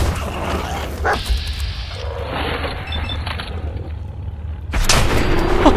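A companion dog barks amid gunfire in the video game Fallout 4, with sharp blasts and barking over a busy, loud soundscape, heaviest near the start and the end.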